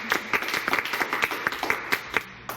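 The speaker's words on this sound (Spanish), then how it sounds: "Un aplauso para ustedes." Audience claps for guests on a TV talk show about aggression in children, a sparse group giving distinct, fairly regular claps in a quick rhythm, moderately close and with no talk over it.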